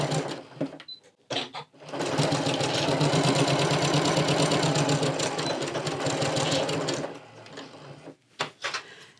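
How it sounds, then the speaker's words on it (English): A sewing machine runs steadily for about five seconds, stitching a quarter-inch seam joining two fabric scraps, with brief starts and stops before and after the continuous whirring run. "Just take a few stitches and then 1/4 inch seam across here. And sew these 2 together."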